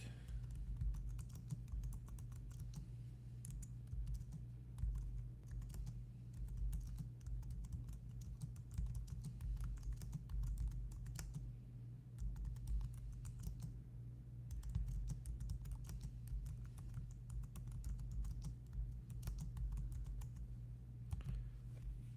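Steady typing on a computer keyboard, a continuous run of fairly quiet key clicks over a low background hum, with no talking.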